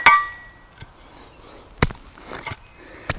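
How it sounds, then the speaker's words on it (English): A Cold Steel Special Forces shovel strikes into soil and roots with a few sharp, separate impacts and scrapes at close range, spaced by quieter pauses. "Scrape, and then we'll just dig a little hole and see what happens."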